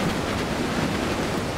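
Sea waves in the racing video game Forza Horizon 4 make a brief, steady, loud wash of surf noise with no speech.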